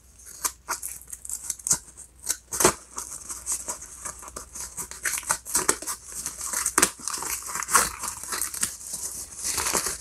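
Scissors snipping open the packaging of a Samsung Qi fast wireless desktop charger, with irregular sharp cuts mixed with crinkling plastic and rustling, close and busy throughout.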